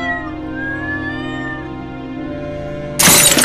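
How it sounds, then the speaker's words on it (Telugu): A cartoon cat meows in a long sustained tone over a background music bed, then something shatters abruptly in a loud, bright crash near the end. "ఎంత పని చేసావే దొంగ పిల్లి!"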